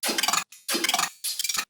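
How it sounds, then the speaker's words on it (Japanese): Three bursts of a gritty, metallic growl wobble bass from a Serum synth patch, each rippling with a fast wobbling modulation, separated by short gaps; loud and up close. "このモジュレーターに使ってるグロールというかワブルベースは、"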